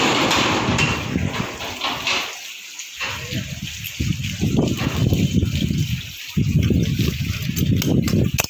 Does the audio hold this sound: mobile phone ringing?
no